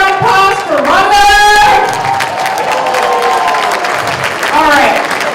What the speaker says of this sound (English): One more round of applause for Rhonda!